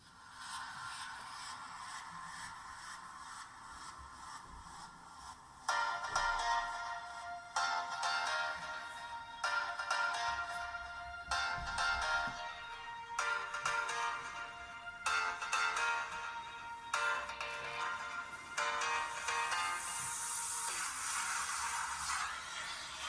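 Royalty-free music plays through the small speaker of a Gretel A9 smartphone, a thin, tinny tune with rhythmic sections that continue steadily at moderate level without voices.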